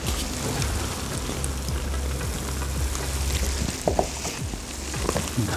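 Tomatoes sizzle and crackle steadily as they fry in a kazan, with scattered spoon scrapes and clacks from stirring.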